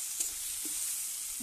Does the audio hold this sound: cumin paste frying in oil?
yes